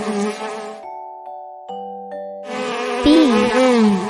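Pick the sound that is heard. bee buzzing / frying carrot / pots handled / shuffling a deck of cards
bee buzzing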